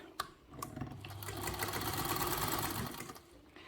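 A hand-cranked sewing machine stitches slowly around a bag corner, a steady whirring run of needle strokes lasting a few seconds after a couple of sharp clicks, close and alone with no talk.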